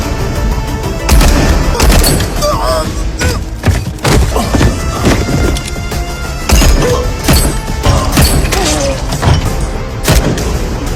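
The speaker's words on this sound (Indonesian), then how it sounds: "Fiju langsung berburu dan menembak mereka semua hingga tewas" Gunfire and violent impacts in a gangster film scene where men are shot dead, loud booming thuds and crashes coming in bursts over a dense, busy soundtrack.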